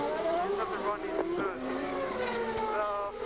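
IndyCar race car engine revving hard as it pulls away from a pit stop after a tire and methanol fuel service, a loud rising engine pitch heard under a commentator's talk.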